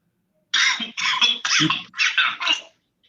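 A series of about six sharp coughs in quick succession, a recorded mix of dry and wet coughs, some harsh and raspy, others with a fuller chesty quality, close up against silence.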